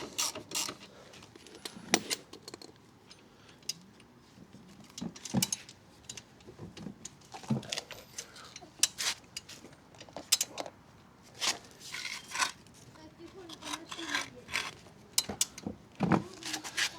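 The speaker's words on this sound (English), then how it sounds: "I'm pushing with one hand from that side and just turning the axle, and it should come off." Metal wheel axle on a Honda CB125F motorcycle turned and worked out by hand, giving a string of close, intermittent creaks, clicks and scraping metallic ticks at irregular intervals with quiet gaps between.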